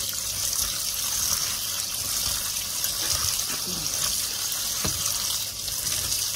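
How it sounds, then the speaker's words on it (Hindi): Kitchen tap runs continuously while bitter gourds (karela) are rubbed and washed under it, a steady hiss of flowing water with faint handling knocks. "अब मैं पानी खोल के दोबारा इनको मल के अच्छी तरह से वॉश करूंगी।"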